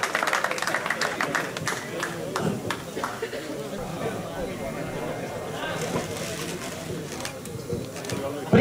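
Spectators at the awards ceremony of the 2017 Gran Fondo Valle dell'Alesa cycling event in Pettineo give a round of clapping, with an announcer's voice and crowd chatter over it.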